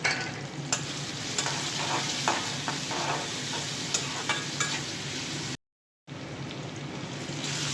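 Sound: chopped onion and garam masala frying, being stirred

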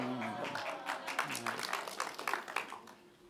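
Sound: applause

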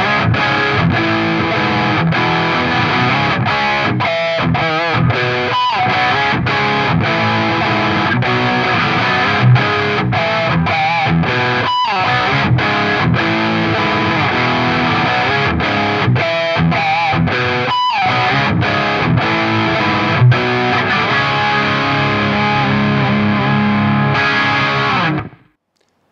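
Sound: raw guitar amp 4x12 cabinet recorded with two dynamic microphones

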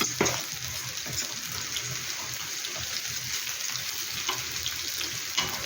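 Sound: meat sizzling while grilling

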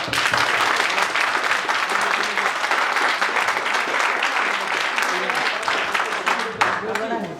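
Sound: applause for the team

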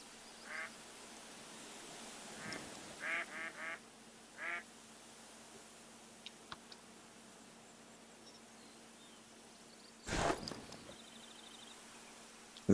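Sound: ducks quacking in theHunter: Call of the Wild video game

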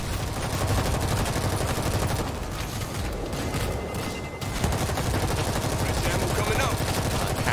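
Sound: gunfire in video game World War Z

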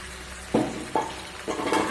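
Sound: pointed gourd and fried shrimp sautéing in a pan

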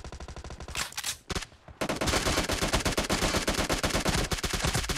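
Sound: gunfire in video game PUBG Mobile

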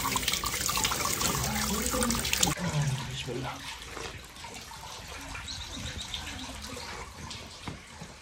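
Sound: natural spring water flowing from the ground

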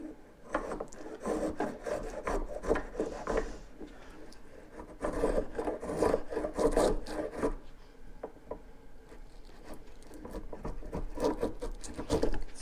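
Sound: Harbor Freight hand plane cutting pine

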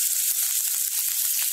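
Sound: chopped onion frying in hot oil with cumin

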